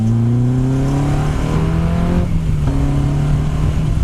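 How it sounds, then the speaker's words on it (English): A Honda S2000 AP1's F20C engine revs loudly and steadily, its tone rising then dipping as the revs climb and settle, close and continuous. "the best thing about it is the roar and bark of this engine"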